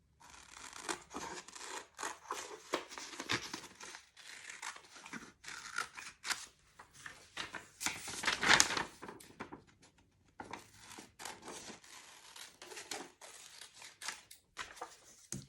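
Scissors snip through folded paper close up, cutting it into four pieces: a long run of quiet, irregular crisp snips and rustles with a few brief pauses.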